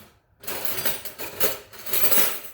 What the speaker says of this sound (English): Let me just get a tablespoon